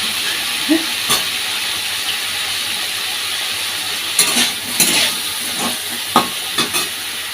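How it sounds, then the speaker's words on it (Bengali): Potatoes frying in a pan in a home kitchen: a steady hiss of sizzling oil, interrupted by scattered clinks and scrapes as the pieces are stirred, with no talk. "এখন আলু ভাজি যাচ্ছে"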